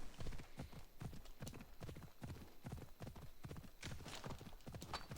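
Horse hooves clip-clop in a video game, a steady rhythmic run of evenly spaced hoofbeats that continues throughout, fairly quiet.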